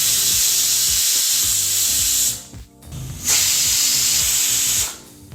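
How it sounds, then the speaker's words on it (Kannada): A pressure cooker cooking hotel-style tomato bath (tomato pulao) lets off two long, loud, hissing steam whistles, separated by a brief lull, with low kitchen clatter underneath. "ಈಗ ಕುಕ್ಕರ್ 2 ವಿಸಲ್ ಬಂದಾಯಿತು."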